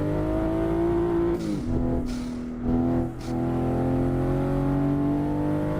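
A Toyota Supra MK5 in a driving simulator game revs hard with a steady mid-pitched engine tone, dipping briefly through quick shifts before climbing again, loud and continuous.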